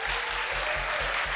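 Audience at a live game awards show applauds the solo developer winner, a dense steady patter of hands with a pulsing low beat of music underneath.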